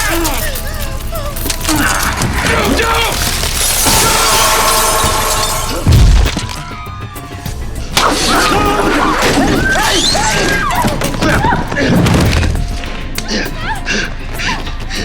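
Glass shatters and crashes loudly amid rumbling debris during an earthquake aftershock, a continuous dense clatter with sharp breaking bursts and shouting voices mixed in.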